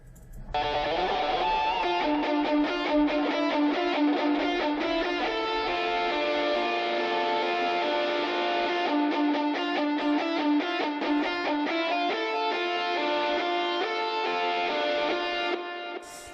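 Layered, distorted electric guitars fill the chorus of a song as a dense, sustained wall of chords running unbroken for about sixteen seconds, loud and close, with no voices.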